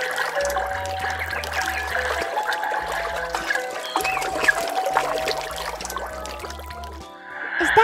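Milk poured for a toy penguin, a light trickling pour running for several seconds beneath steady, rhythmic background music.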